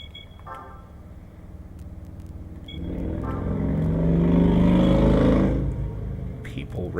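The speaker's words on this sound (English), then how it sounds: "People driving around in their loud vehicles." Racing car engines from Gran Turismo 2 drone steadily, then swell into a louder, sustained roar midway before easing off slightly, with a brief high engine whine near the start.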